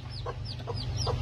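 Freshly hatched chicks and adult chickens on a farm in Baghdad give a few short clucks and peeps, three or four evenly spaced calls over a steady low background hum.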